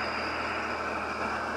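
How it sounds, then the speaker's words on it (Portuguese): Truck engine labouring under load as it climbs a mountain road, towing a small trailer loaded with vegetables; a steady, dense, continuous drone with no clear gear changes, heard alone. "Botar pressão para não deixar o giro do motor cair."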